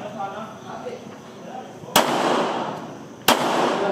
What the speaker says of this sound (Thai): ยิงด้วยมือข้างซ้ายครับ